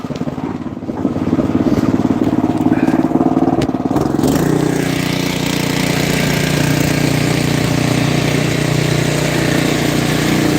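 A mid-1970s Jensen snowblower engine runs close and loud, its steady chugging note shifting partway through and then settling into an even run.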